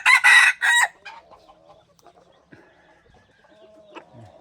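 A red-eared F2 breeding rooster lets out a loud, close crow in several bursts, followed by a few faint, scattered clucks from the surrounding chickens.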